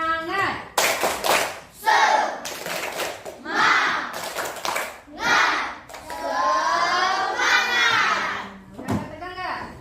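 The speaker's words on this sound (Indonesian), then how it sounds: "tepuk semangat" A group clapping out an Indonesian "tepuk semangat" spirit clap at a teachers' coaching session, sharp bursts of claps alternating with loud voices, children's shouts and talk across the whole stretch.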